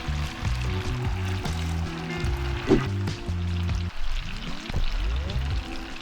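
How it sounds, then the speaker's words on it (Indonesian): Soft tofu fries in hot oil in a wok, giving a steady close sizzle and crackle with brief spatters, while a voice talks over it throughout. "untuk goreng tahu yang lembut kayak gini juga perhatikan jangan dibolak-balik"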